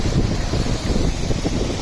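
A steady, close rushing roar of water spilling over a river lock sill, broad and unbroken, with a windy hiss on the microphone.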